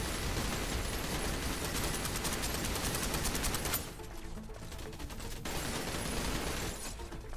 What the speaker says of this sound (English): I got 8 turrets. So 3 of them go off at a time